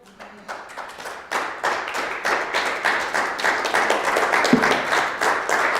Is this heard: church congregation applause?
yes